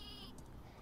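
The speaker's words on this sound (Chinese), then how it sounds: "我看有个绵羊发射器，要不要玩看这个？" A sheep fired from the sheep launcher weapon in the video game Worms W.M.D lets out a short, faint cartoonish bleat, heard alone with no talking.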